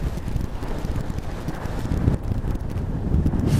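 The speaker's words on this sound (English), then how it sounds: "48 mile per hour gust, 22 mile per hour sustained winds." High wind gusts of up to 48 mph buffeting a microphone outdoors, giving a heavy low rumble and roar that swells and surges unevenly throughout, with no talking.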